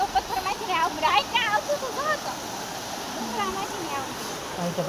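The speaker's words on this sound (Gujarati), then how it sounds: "વરસાદ આવે કે પાણી વધારે આવી ગયું છે બધું પાણી ચાલુ છે" Heavy rainwater rushes in a steady, broadband roar at Gautameshwar Mahadev in Sihor, running continuously beneath a voice talking close by throughout.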